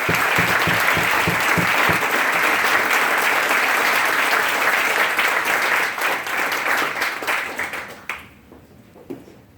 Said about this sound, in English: I would like to give these guys one more round of applause.